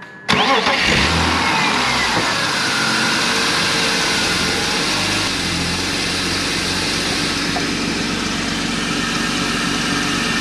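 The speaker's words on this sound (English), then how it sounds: "as soon as I turn on the car" A BMW E36 M3 cranks and fires up abruptly, then settles into a loud, steady idle close by, with a brief rise in revs just after starting.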